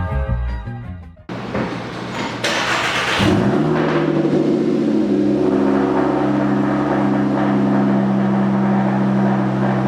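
A Volkswagen engine with a custom exhaust fires up and settles into a loud, steady, throaty idle with a deep rumbling exhaust note, preceded by brief clattering noises.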